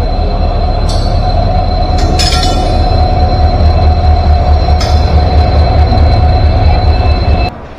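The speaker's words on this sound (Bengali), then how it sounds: "এই ট্রেন ঢুকছে না" The Tamralipta Express from Kolkata to Digha rolls into the station with a loud, steady heavy rumble, metallic wheel squeals and clanks, close by, ending abruptly near the end.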